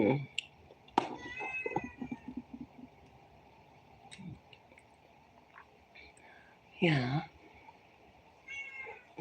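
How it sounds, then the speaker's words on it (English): A pet cat called Coachy gives a couple of big drawn-out meows, one early and one louder near the end, under soft quiet talk and murmuring. "Coachy's meowing with his big meow"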